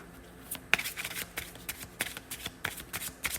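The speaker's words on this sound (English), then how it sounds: "I'll shuffle live" Tarot cards being shuffled up close, a series of quick riffling bursts in an irregular rhythm, soft and crisp with no talking.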